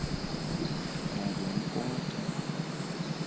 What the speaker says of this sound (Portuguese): Barulho de sapo.